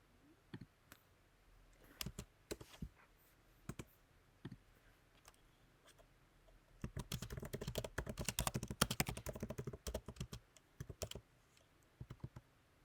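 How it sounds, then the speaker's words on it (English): A loud computer keyboard clatters under fast typing, close to the microphone. Scattered keystrokes come first, then a dense burst of rapid clicks in the middle, then a few sparse taps at the end. "I do realize my keyboard is loud."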